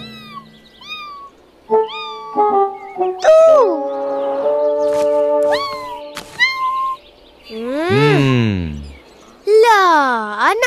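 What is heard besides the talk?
kitten meowing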